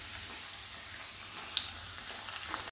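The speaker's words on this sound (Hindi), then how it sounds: "अब हम आलूओं को गोल्डन ब्राउन होने तक फ्राई करेंगे।" Potatoes deep frying in oil for Kashmiri dum aloo, a steady close hiss and crackle of bubbling oil running throughout with a few small pops, no voices.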